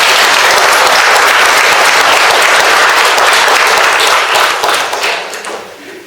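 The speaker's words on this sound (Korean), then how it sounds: "박수로 좀 환영하십니다" Applause at a Korean poet's book launch celebration, a loud, dense roomful of clapping welcoming the author, steady at first and then thinning and fading out toward the end.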